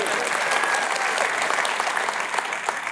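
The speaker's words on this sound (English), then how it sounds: "Yeah, you can clap for that." A large keynote audience at a Dreamforce admin conference claps loudly, a dense steady wash of applause filling the hall throughout.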